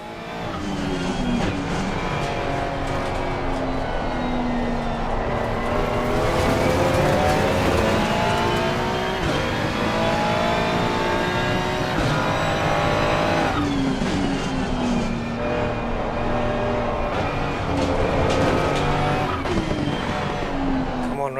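Race car engine in a sim-racing video game revs and shifts continuously through the whole stretch, with tires squealing in the corners, loud and steady, and someone talking over it at times.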